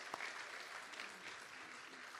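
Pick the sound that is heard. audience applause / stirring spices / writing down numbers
audience applause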